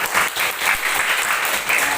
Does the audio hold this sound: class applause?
yes